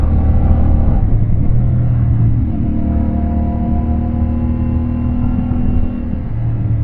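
A CFMoto 450MT motorcycle rides through corners, its engine a steady, close, loud drone with a slight dip in level near the end and no talk.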